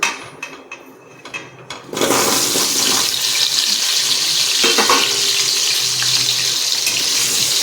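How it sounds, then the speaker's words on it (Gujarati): Onion is dropped into hot oil already crackling with cumin seeds and asafoetida for a Kathiyawadi onion curry, setting off a sudden, loud, steady sizzle that follows a quieter start and continues to the end. "જીરું ને હિંગ સરસ તતડી ગયું છે, હવે આપણે અંદર ડુંગળી નાખી દઈશું।"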